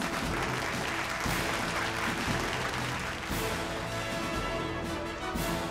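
Sustained applause from a large audience at a televised corporate employee excellence awards ceremony, loud and continuous, dense and steady throughout with no talk over it.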